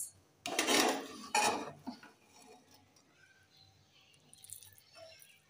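Cooked rice served onto a plate, with two short raspy scrapes of a serving spoon close by, followed by quieter faint clinks of tableware.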